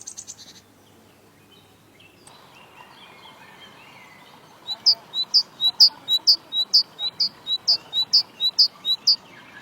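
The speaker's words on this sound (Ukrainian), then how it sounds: "А так кричить синичка." A titmouse sings a rapid series of about a dozen bright, evenly spaced high chirps, clear and fairly close over a faint background, after some brief softer sounds at the start.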